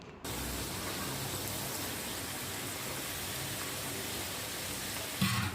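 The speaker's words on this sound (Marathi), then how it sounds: "तेल व्यवस्थित गरम करून घ्यायचं आहे आणि तेल गरम झालं की कढईत मावतील तेवढ्या पापडी आपल्याला यात घालायचे आहे" Papdi, thin flat dough crisps, deep-frying in hot oil in a kadhai, a steady dense hiss and crackle running evenly throughout with a brief louder flare at the end.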